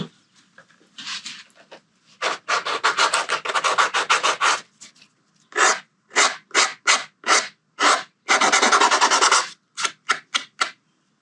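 Trimmed plastic edges of a tail tidy for a Suzuki V-Strom 800DE rubbed smooth by hand, in repeated short back-and-forth rasping strokes, close and fairly loud, with brief pauses between bursts and no talking.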